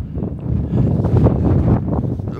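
Gusting wind at a wild, exposed camp in the Cheviot hills, buffeting the microphone in a steady, loud roar that swells and eases slightly without pause; no talking.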